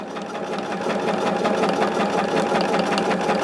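A sewing machine runs steadily as it stitches along a fabric seam, its rapid needle chatter close and continuous, building slightly in loudness after the first moment and holding without talk.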